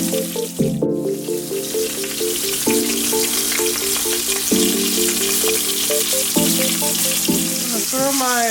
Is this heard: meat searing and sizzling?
yes